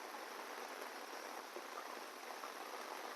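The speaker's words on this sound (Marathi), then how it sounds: "पाऊस आता जोरात चालू झालेला आहे" Heavy monsoon rain pours steadily over Konkan paddy fields, a dense, even hiss with no pauses across the whole stretch and no voices.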